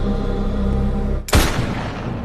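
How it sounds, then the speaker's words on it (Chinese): A single loud gunshot from a zombie war film cracks out sharply after a steady background drone, then rings and decays over the following second. "沃克只好开枪打死了他"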